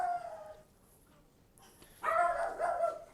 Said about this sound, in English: That's my dog. You can probably hear him.